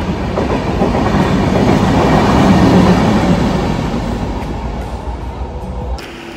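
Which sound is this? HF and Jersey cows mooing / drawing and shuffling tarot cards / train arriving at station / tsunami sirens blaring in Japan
train arriving at station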